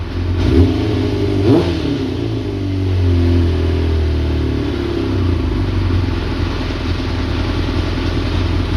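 A Kawasaki ZX4 motorcycle engine revs up briefly twice, then settles into a steady, loud idle rumble that holds for the rest of the clip.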